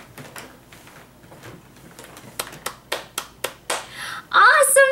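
A baby claps hands in a short burst of about six sharp, close claps, preceded by softer scattered taps, with a louder noisy rustle at the end.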